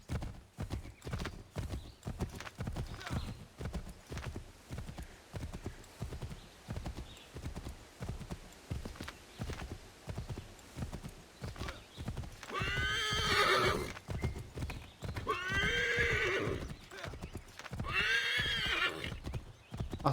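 A horse's hooves clip-clop in a steady rhythmic walk on a hillside path, close and continuous, broken by two loud whinnying neighs in the second half.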